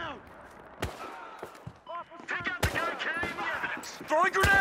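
Gunfire in Battlefield Hardline, with sharp shots cracking close and further away in an irregular fusillade, under excited shouting voices.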